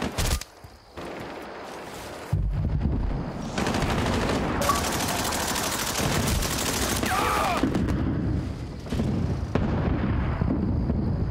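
Grenade blast and gunfire in a Battlefield: Bad Company multiplayer match, with a sudden loud explosion followed by sustained rapid bursts of weapon fire and rumbling, near and dense, with a brief lull in between.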